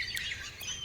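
Wild birds call at a lake in the morning: two brief, faint, high chirps or squawks a moment apart, heard in the distance over quiet background air.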